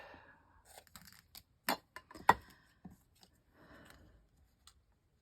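Scissors cutting paper strips for a decorated journal, a handful of soft snips and crisp slicing clicks up close, quiet and scattered with pauses between cuts.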